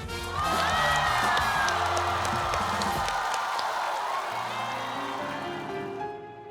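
A talk-show studio audience applauds and cheers to welcome the host of a comedy show, a loud, sustained wash of clapping and whoops with music underneath that fades out at the end.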